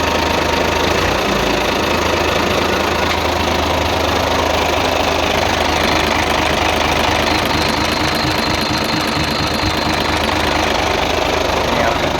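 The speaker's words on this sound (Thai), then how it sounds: "เครื่องนิ่มๆครับผม ไม่มีไอเลยครับ" A Hino Rocky truck with a 270 hp engine idles steadily and loudly up close, a smooth, even diesel rumble with a faint knocking texture that runs unbroken throughout.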